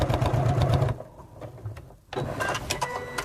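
A sewing machine runs a tote bag seam at a 1 cm allowance, a dense close whirr for about a second, a pause with faint handling, then a second steady burst of stitching.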